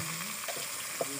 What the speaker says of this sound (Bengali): এবার আমি তেলটার মধ্যে পেঁয়াজগুলোকে দিয়ে দেব